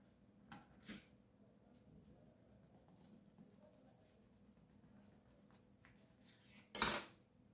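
A knife cuts through crunchy Moroccan fekkas biscuits studded with nuts in a quiet kitchen. A few faint taps come first, then one sharp, loud crunch near the end.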